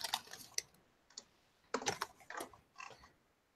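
Computer keyboard typing comes as scattered, fairly quiet clicks and short bursts of keystrokes with gaps between them, and no talking.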